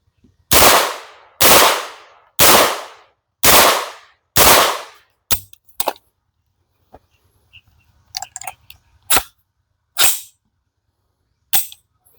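Davinci DG-9 gun firing rounds outdoors: five loud, evenly spaced shots, then a scatter of sharper cracks and clicks with quieter gaps, one more shot near the end.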